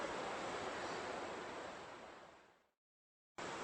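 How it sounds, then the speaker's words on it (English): Wind gusts hard by the sea, a loud broadband rush mixed with surf that fades away into silence before abruptly returning at the end. "Got a bit of a wind blowing now, but what a sight."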